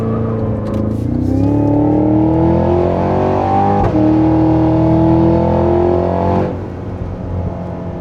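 A 2025 Cadillac Escalade V accelerates hard with a loud, rising engine roar that climbs steadily in pitch for several seconds, then eases off as the throttle lifts.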